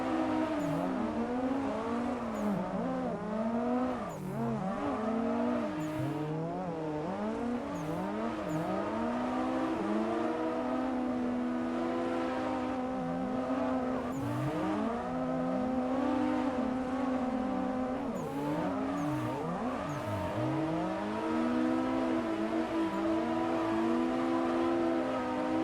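Video game cars drifting in tandem on a server, engines revving and wailing continuously with rising and falling pitch sweeps, loud and steady throughout with no talking.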